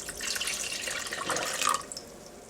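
Vegetable broth poured into a mix for a vegan cheese sauce, a short close trickle and splash of liquid lasting about two seconds, then fading to a few faint drips.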